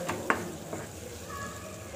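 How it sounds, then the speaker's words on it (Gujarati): Chopped tomatoes with turmeric and spices cook in a pan for a Gujarati turiya shaak, a soft low sizzle under a few sharp clinks and scrapes of a spoon stirring against the metal. "2-3 મિનિટ ટામેટાને સાતડીશું."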